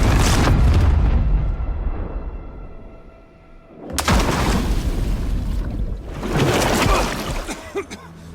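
A boat blowing up in a bay inside a video game: a heavy booming blast with a rumbling tail that fades, then a second sharp crack and a roaring burst.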